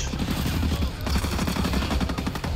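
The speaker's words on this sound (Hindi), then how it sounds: "गोलियां चला दी भाई उन्होंने।" Rapid automatic gunfire from the video game Ghost Recon Breakpoint, a dense, sustained clatter of shots running loud and steady throughout with no talk over it.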